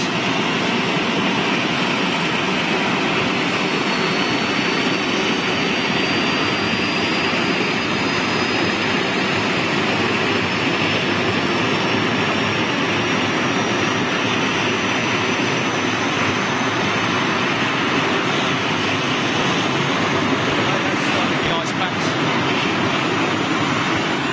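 A Boeing 747 freighter's APU runs during nose-loading cargo operations, a loud, steady jet-engine roar with a faint rising whine, continuous and unbroken throughout with no talking.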